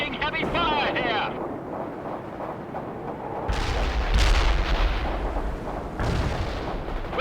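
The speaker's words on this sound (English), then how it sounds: "We're taking heavy fire here" Heavy gunfire and booming artillery blasts from the World in Conflict battle game, loud and continuous, with radio-style voices talking over the combat.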